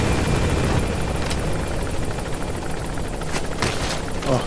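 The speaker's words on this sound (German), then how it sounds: "Ach du Scheiße, da ist ein Helikopter." Helicopter flying in the video game Metal Gear Solid V, a loud steady rotor whine and chopping that fills the whole scene, with a few sharp transient bursts near the end.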